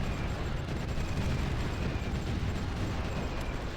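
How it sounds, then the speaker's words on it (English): Distant artillery fire in the strategy war game Supreme Ruler Ultimate, a steady low rumbling barrage of booms and pops with no talk over it. "they are sending the artillery on that side"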